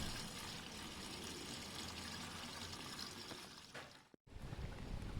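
Watery oil drains from a Kawasaki ER-5 motorcycle, a steady close trickling and splashing that runs on and then briefly cuts out near the end.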